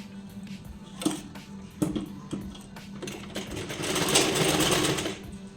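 A sewing machine runs steadily, stitching the tucks of a four-tuck belt blouse, with a constant close mechanical whir, a few sharp clicks, and a slight swell in speed near the end, with no talking.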